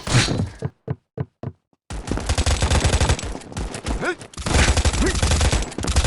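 Gunfire in the mobile World War II game World War Legion Mobile: a few short separate shots, then a long loud burst of sustained automatic fire with a dense rattling texture.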